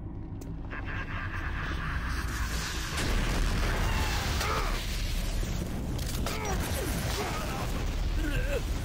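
Rocket launcher blasts in DOOM 3 ring out as loud, dense booming roars that swell after the first seconds and stay heavy, with whooshing sweeps layered over the explosions.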